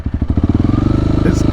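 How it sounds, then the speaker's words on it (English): Honda CRF300L motorcycle with a Black Widow full-system exhaust and the baffle removed, idling and revving up loud and close with a rapid, steady thumping beat. "I would say that this bike, with the Black Widow exhaust full system without the baffle,"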